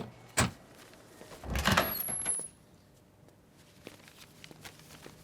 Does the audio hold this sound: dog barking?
no